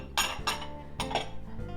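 Glass candy dishes, a cheap clearance four-pack, clink together as they are handled indoors: three or four bright, short chinks spaced apart, fairly quiet and close, with no talking.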